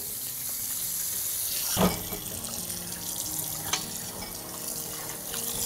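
Tap water runs steadily over raw chicken being rinsed in a kitchen sink, a continuous close splashing stream with a couple of brief louder splashes.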